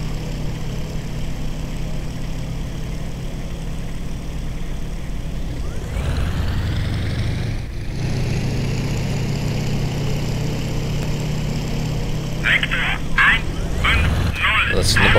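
A WWII-era propeller fighter's engine in IL-2 idles low, then surges louder as it revs up partway through, holding a heavy droning tone with some clattering near the end.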